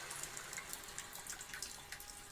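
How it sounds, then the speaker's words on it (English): Water runs steadily from a hot liquor tank through sparge arms onto the mash of a home beer brew, a continuous hiss with small splashy spatters throughout. "We're just starting to run the second half of the sparge through now, so you can see coming out of the HLT over there."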